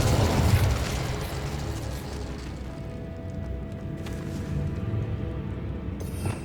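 The Revelio spell cast in Hogwarts Legacy: a loud, booming magical burst at the start, fading into a sustained shimmering rumble with a faint steady tone and a brief flare near the end.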